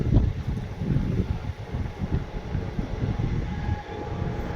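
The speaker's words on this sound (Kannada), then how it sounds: "ಈಗ ಯಾವುದೋ ಬರತೈತಿ ಮಾಲ್ ಗಾಡಿ ಆಯಿತು ಪ್ಯಾಸೆಂಜರ್ ಗಾಡಿ ಆಯಿತು ಗೊತ್ತಿಲ್ಲ" A train, either a goods or passenger service, rolls past close by with a steady low rumble and rhythmic clatter, with no talking.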